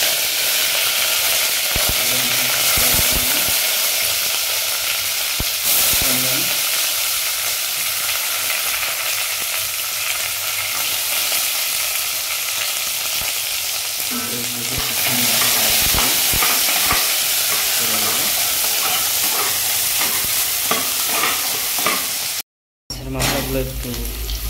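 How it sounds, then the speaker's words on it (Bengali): Bay leaf, fennel, mustard seeds and cumin hitting hot oil in a pan, a steady bright sizzle running throughout with occasional stirring and scraping, broken by a brief cut near the end. "প্রথমে আমি অয়েল হিট হয়ে গেছে, তো প্রথমে আমি তেজপাতা দিয়েছি, সৌফ, রাই সিড, জিরা"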